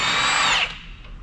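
An impact gun whirs loudly as it spins a 19 mm strut nut on a 1998–2002 Toyota Corolla's front strut, a steady high whine for about half a second before cutting off and fading away.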